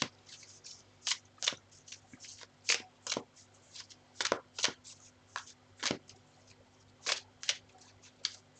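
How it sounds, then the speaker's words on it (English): Tarot cards being shuffled and pulled during a pick-a-card reading, a run of crisp riffling and snapping card bursts at an irregular rhythm, close and fairly quiet, with no talk over them. "I'm going to pull one more tarot card because I want a bit more info and clarity"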